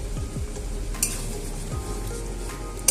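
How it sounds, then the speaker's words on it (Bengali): Cauliflower florets sprinkled with a little sugar fry in a pan, giving a soft steady sizzle with a few clinks of a spoon against the pan, close and fairly quiet. "এবার এর মধ্যে আমি ফুলকপিগুলো ঢেলে দেব"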